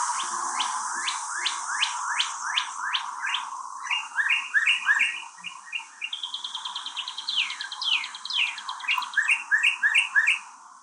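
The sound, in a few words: northern cardinal song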